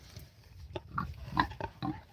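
A mother pig among her piglets gives short, low grunts and oinks, a few scattered snorts and squeaky bits over rustling, close and moderately loud with no talking.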